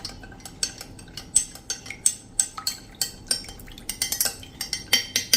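A spoon stirs cornflour into a little water, making rapid, repeated clinks against the bowl in an uneven rhythm, close and clear with no talking.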